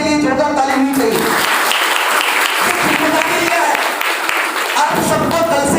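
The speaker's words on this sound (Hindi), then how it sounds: "मैं चाहूंगा फिर से एक बार सभी लीडर के लिए जोरदार ताली होनी चाहिए।" A business seminar crowd gives the event leaders a strong round of dense clapping that lasts several seconds, with someone speaking just before it starts and again as it fades.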